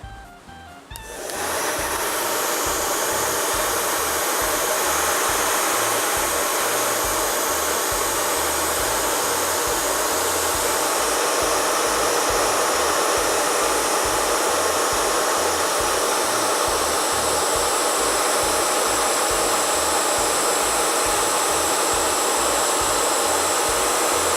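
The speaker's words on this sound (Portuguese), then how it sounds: "Então nós vamos ligar o secador no quente e vamos colocando bem de pertinho" A hair dryer on the hot setting switches on and runs continuously at a steady, loud whir, held close to painted fabric and unchanging.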